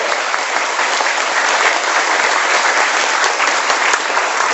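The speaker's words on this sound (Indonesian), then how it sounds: "Sekali lagi tepuk tangan dong." Steady audience applause fills the room at a presentation event in Jakarta, dense and continuous clapping from a crowd without pauses, loud and close throughout.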